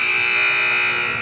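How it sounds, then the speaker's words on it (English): A sustained electronic end-of-period buzzer sounds at an 18u championship ice hockey game between the Richmond Generals and Chester County Cougars, a steady loud tone holding evenly throughout over arena background. "And we get our buzzer."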